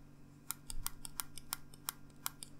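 The scroll wheel button on a clear Zebronics wireless mouse clicks about a dozen times in a quick, uneven series, sharp and close, in an otherwise quiet room.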